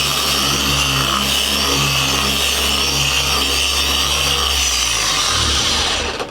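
A machine polisher spreads Meguiar's 3 in 1 wax across a van panel in one pass, giving a loud, steady whirring drone that holds throughout and winds down at the very end.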